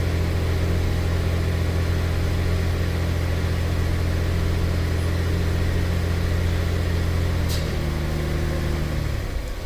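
A 2006 Pontiac Montana minivan's 3.5L V6, showing a P0171 lean code and a P0101 airflow code, holds a steady, loud droning hum under brake torque, then the pitch steps up briefly before easing off near the end.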